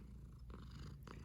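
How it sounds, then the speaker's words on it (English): Lily, one of three pet cats, purrs softly and steadily up close in a quiet room, a low continuous rumble with faint breathy pulses and no voices. "if you hear some purring or meowing in the background, it's our cat, Lily."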